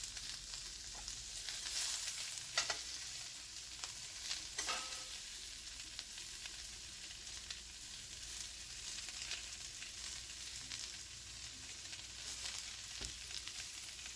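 Onions sizzle and fry in an overly hot pan, browning for a ratatouille, a steady dense crackle with occasional stirring scrapes and no talking.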